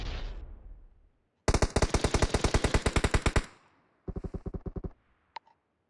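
First-person shooter gunfire, close and loud: a sustained burst of rapid automatic fire after an opening blast, a shorter quieter burst after a pause, then a single sharp shot at the end, with no voices.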